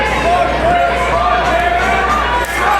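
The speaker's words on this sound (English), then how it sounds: "The crowd is in awe here." A pro wrestling crowd at a live Battle Arts show fills the arena with a continuous, loud murmur of chatter and reaction, steady throughout with no single voice standing out.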